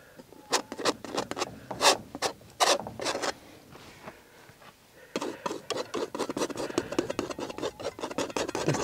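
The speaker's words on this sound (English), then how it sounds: "Just do a bit of blending." A brush works oil paint across a canvas outdoors by a river, making a run of dry, scratchy rubbing strokes in quick bursts, with a short pause before a denser stretch of brisk strokes, close and fairly quiet.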